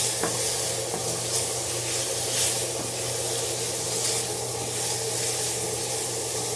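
Onions, mushrooms and peppers sizzle in pans. The frying is a steady, close crackle with a low hum underneath, and a faint clink comes through now and then.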